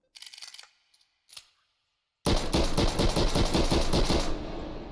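A video game gun fires full auto, a loud rapid burst of shots in tight even rhythm lasting over two seconds, preceded by a few faint mechanical clicks and handling sounds.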